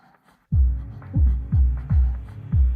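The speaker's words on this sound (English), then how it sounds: "Sounds like breath and a heartbeat." Steady throbbing heartbeat-like pulses in a song, thumping about twice per second over a soft breathy layer, loud and close with no voices.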